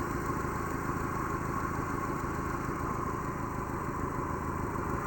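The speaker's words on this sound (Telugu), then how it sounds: "ఆల్రెడీ వీడియో స్టార్ట్ చేసిన కాడి నుంచి ఇంజిన్ రన్నింగ్లోనే ఉందండి" A steady, unbroken engine hum of a 2009 Maruti WagonR car idling close by, even and continuous throughout, with no talking.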